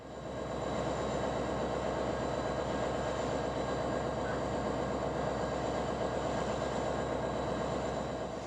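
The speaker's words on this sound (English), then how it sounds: "this southbound UP unit coal train crawling up to the signal at Spruce for a meet with the northbound" A southbound Union Pacific unit coal train crawls up to a signal on a Colorado joint main line, a steady, loud rumble of locomotive engines and rolling wagons that holds even throughout, with no talk.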